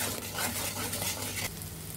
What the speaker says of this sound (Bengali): আমাদের সর্ষে কষানো প্রায় হয়ে গিয়েছে